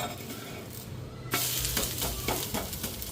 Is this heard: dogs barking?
no